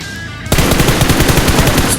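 Rapid automatic gunfire in PUBG Mobile aimed at a robot, a dense sustained burst of shots erupting abruptly after a quiet half-second and running loud to the end.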